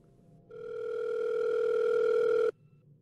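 Steady electronic dial tone from a public pay telephone, sounding alone for about two seconds at moderate volume before cutting off abruptly, with quiet background hiss before and after.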